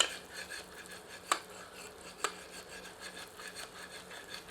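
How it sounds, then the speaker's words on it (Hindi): A ladle works mutton masala in a pressure cooker, soft scraping and rubbing strokes against the metal with two brief knocks, faint and close, no voices. "बीच बीच में करछी चलाते रहें ताकि मसाला तली पर ना चिपके"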